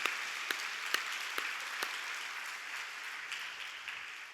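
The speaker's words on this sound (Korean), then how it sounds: "박수해 주시고" A church congregation applauds a children's department presentation at a Friday night prayer service, with scattered sharp claps at first that settle into steady, moderately loud clapping across the room.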